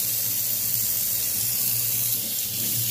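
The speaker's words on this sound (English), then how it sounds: "Washing my pan." Tap water runs steadily into a sink while a pan is washed under the cold stream, a continuous close splashing hiss with no pauses or talk.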